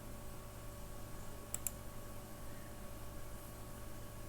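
Two quick, faint mouse clicks land close together against a quiet background hum while someone works in Excel, with no talking.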